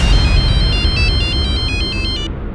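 A phone rings loudly with a repeating electronic ringtone in steady pulses during a call to a husband, then stops abruptly. No one talks over it.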